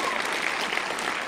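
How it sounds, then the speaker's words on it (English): Supernatural fans applauding at the Paley Festival, a steady, dense wash of clapping from a large audience that fills the whole moment without a break. "give yourself a round of applause"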